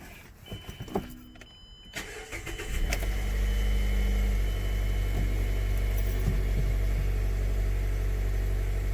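A Mazda 3 with a 6-speed manual gearbox is started with the key: brief clicks and a cranking whir, then the engine catches and settles into a steady, loud, close idle hum that continues without talk.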